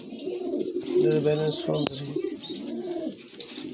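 A pair of pigeons, a male and a female, coo in repeated low, throaty phrases close by, while a person speaks softly over them.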